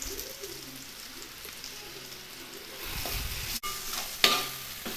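Tomato and turmeric frying in a pan for fried rice: a soft, steady sizzle with spatula stirring that grows busier, then a sharp knock and a clatter near the end, close and fairly quiet, no talking.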